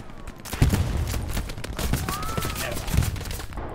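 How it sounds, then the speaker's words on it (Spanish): Gunfire from several directions in the World War II shooter Hell Let Loose, with sharp shots and bursts at mixed distances popping over a constant battlefield rumble. "me están disparando de todos lados"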